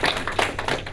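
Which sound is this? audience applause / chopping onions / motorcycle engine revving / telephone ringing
audience applause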